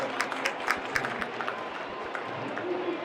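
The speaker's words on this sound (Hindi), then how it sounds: "एक बार ताली जरूर होनी चाहिए" Brief scattered applause from an audience at a formal SEBI event, a few sharp claps rising and fading over a faint murmur of the hall.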